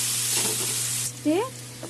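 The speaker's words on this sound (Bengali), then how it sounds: "আমার আলু মোটামুটি ভাজা হয়ে গেছে, এখন মশলাগুলো দেবো।" Spices tipped into a pan of frying potatoes give a steady close sizzle with stirring, swelling into a brief louder hiss about halfway through and then settling back.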